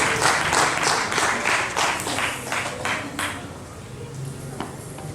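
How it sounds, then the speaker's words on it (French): Audience applause at a preselection singing casting for Voice Out Benin, loud and continuous clapping that thins out over several seconds. "Sous vos applaudissements, s'il vous plaît."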